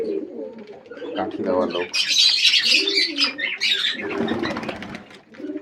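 Pet pigeons at feeding time cooing and fluttering nearby, with soft throaty coos, chirps and bursts of wing flapping mixed with a person talking over them.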